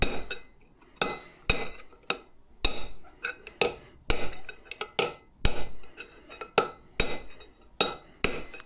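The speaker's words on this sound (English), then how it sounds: "bloody heavy this hammer" A heavy hammer pounds the front wheel bearing on a Mercedes 410D van during a bearing replacement: roughly fifteen sharp, ringing metallic strikes close by, in an uneven rhythm with brief gaps and no voices.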